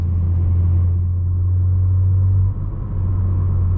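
BMW M3 Competition fitted with an IRL V2 axle-back exhaust, heard from inside the cabin with the valves closed: a steady low, droning rumble at cruise, loud and continuous, with no talking.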